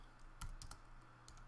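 Keys clack on a computer keyboard while code is entered, a short burst of a few quick taps followed by two more light strokes, close by and fairly quiet.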